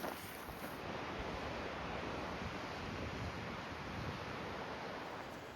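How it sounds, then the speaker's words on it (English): Strong wind roars steadily across the microphone on a mountain ridge trail near Mt. Baldy, a dense, buffeting rush with no pauses or voices. "as I suffer through this wind event"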